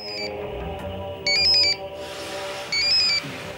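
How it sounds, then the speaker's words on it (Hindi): A mobile phone ringtone plays twice as short bright electronic melodic bursts, heard over a steady background of music or ambient noise. "मेरे बेटे सुनील का फोन है"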